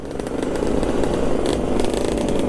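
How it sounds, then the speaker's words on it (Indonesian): A fully restored 2004 Yamaha RX King two-stroke motorcycle idles loud and close at a street meet in Makassar, with a raspy, rattling, steady engine note and slight throttle swells. "Nih motor barunya Kak Iqbal, ini dia 2004 ya, sudah restorasi full ya"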